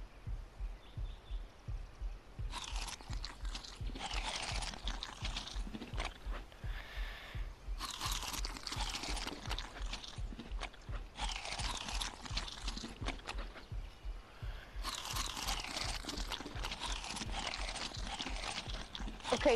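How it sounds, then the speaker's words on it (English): In the video game Ark, a character eats berries with loud, repeated crunchy chewing bursts recurring every couple of seconds, over a steady low background rumble. "Oh, I'm eating inside the game."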